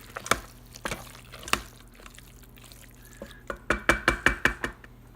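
Rice risotto being stirred in an Instant Pot, with a spoon clinking and scraping against the pot in a string of sharp taps that quicken into a rapid rhythmic burst near the end.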